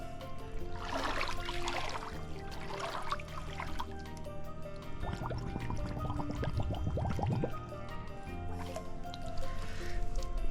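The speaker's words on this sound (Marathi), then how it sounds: "याच्यातलं पाणी स्वच्छ आहे तर मी तुम्हाला पाणी काढून दाखवतो" Water is drawn by hand from a rock-cut cistern at a hill fort. Faint splashing and dripping recur in short bursts, with a quick run of gurgling trickles near the middle, under outdoor background noise.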